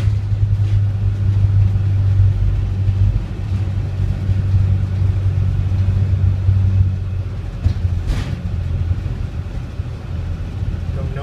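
A car crosses the Hawthorne Bridge at about 25 mph in 32-degree weather, with a loud, steady engine and road rumble throughout and a brief knock near the end.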